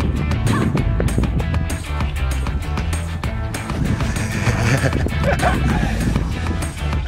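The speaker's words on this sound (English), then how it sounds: "this is my new puppy" A new puppy barks and yips repeatedly at close range in a busy, lively room, with sharp excited bursts mixed with a person talking.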